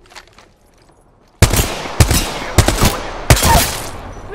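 Four loud, sharp bursts of gunfire from a G7 Scout rifle in the Apex Legends shooter, firing at roughly half-second intervals after a near-silent opening, each shot ringing out with a brief tail.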